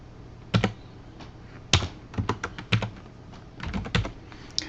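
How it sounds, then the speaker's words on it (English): Arrow keys pressed on a computer keyboard while entering matrix item attributes in retail management software, a series of close, sharp clicks in small bursts with short pauses between, heard alone. "Using the arrow keys, I'm going to use the right arrow key."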